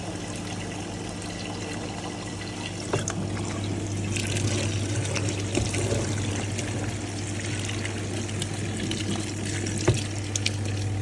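Water spraying and trickling inside a Hitachi PS330P twin tub washing machine during a spray rinse, a steady low hum with splashing and occasional knocks, fairly quiet and without voices.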